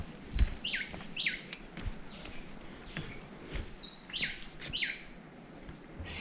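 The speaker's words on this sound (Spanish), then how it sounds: "Siempre se está acompañado de los distintos sonidos de algunas aves, insectos y no sé qué animales más." Birds chirp and whistle in repeated short bursts over a steady insect hum in the Tayrona tropical forest, the calls near and fairly clear, with a few faint knocks underneath.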